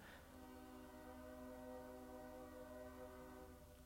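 A distant train sounding its horn, a sustained harmonic tone that holds steady and fairly quiet over low rumble.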